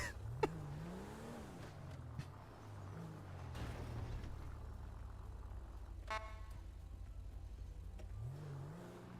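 A car engine revs inside the GTA video game during an online roleplay session, a steady mid-pitched engine hum with rising rev swells near the start and end, plus a brief sharper burst partway through.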